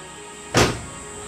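A car door gives a single short rattling clunk, loud and close, that dies away quickly into near silence.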